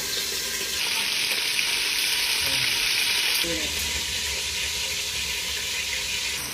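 Beef pieces pan-frying in oil for mechado, a steady loud sizzle and hiss throughout with occasional stirring scrapes, no talk.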